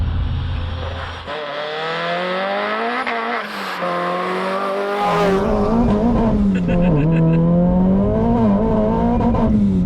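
A loud supercharged Renault Clio RS200 engine, built to 350 bhp, revs and pulls hard with a throaty exhaust note rising and falling, close by, with a brief squeal of tires.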